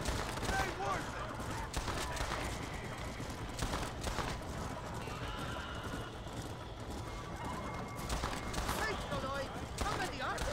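Gunfire in the Western game Red Dead Redemption, bursts of shots mixed with galloping horse hooves and whinnies, busy and loud with voices shouting over the action.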